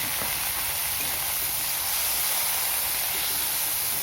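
Spices frying in hot oil with potato and eggplant, a steady loud hiss and sizzle throughout, close and continuous with no talk.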